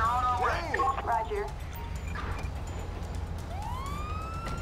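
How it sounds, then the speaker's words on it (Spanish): A police car siren in GTA 5 wails in rising and falling sweeps, first a quick yelping burst, then a fainter pause and a new rising wail, with game background noise underneath. "hay que apagar la sirena"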